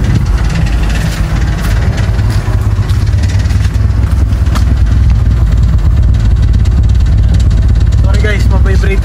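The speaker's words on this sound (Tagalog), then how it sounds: "bali wala siyang matinong idle. As in nagmi-misfire" A Toyota Corolla engine idles roughly and misfires, a loud, constant low rumble with exhaust vibration filling the whole clip.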